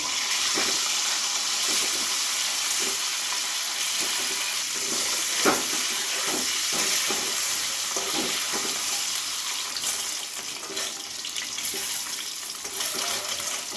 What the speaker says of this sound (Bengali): আমি আবার সরষের তেল দিলাম, দিয়ে ডিমগুলো ভেজে নেব।